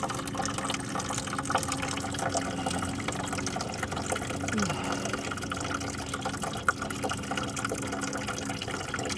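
Coolant draining from the radiator of a Ford Focus with the drain cracked slightly open, a steady low trickling and splashing of liquid running continuously at moderate distance, with faint background noise and no talk.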